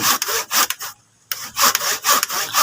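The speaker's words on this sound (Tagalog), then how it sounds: "yan lagariin na natin" A hand saw cuts through a plant stem in quick rasping back-and-forth strokes, close and loud, with a short pause partway through before sawing resumes.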